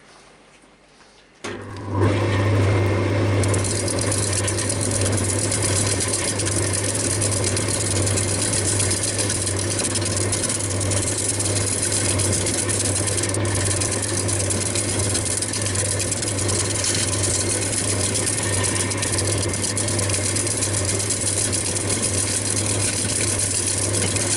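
A woodturning lathe starts up and spins a big wooden bowl at 500 rpm, giving a sudden onset followed by a steady, loud motor drone and hum that continues unchanged for over twenty seconds.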